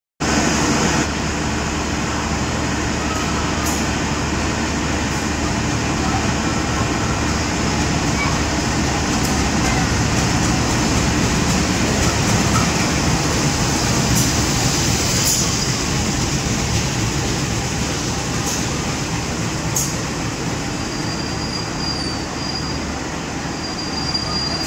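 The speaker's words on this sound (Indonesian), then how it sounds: "ini dia kereta api Pasundan Lebaran yang mengantarkanku ke tujuan akhir, yaitu stasiun Bandung" The Pasundan Lebaran passenger train rolls steadily along the rails arriving at Bandung station, with a continuous loud rumble of wheels and carriages and faint high squeals over the clatter.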